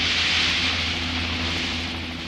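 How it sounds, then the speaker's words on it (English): A Chinese army helicopter flies near the Darim River, its engine and rotor making a loud, steady droning roar that fades slightly toward the end. "We had a helicopter supplied by the Chinese army"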